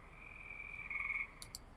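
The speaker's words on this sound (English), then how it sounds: "Those are toads and tree frogs. Yeah, you can hear them." Toads and tree frogs call in a sustained, buzzing trill that holds steady, then gives way to a few short chirps. The chorus is faint and distant, with no voices.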